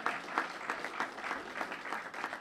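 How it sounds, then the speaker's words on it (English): A crowd at a Capitol Hill summit applauds members of Congress, a faint, steady patter of many hands that pulses gently and holds throughout. "I want you to give the members of Congress that are here a round of applause"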